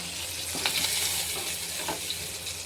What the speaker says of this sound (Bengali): চিংড়ি মাছগুলো এরকম হালকা হালকা মতো ভাজা হবে, বেশি কড়া ভাজা করবো না।